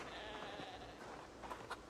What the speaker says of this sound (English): That sheep is just for hours attacking the gate.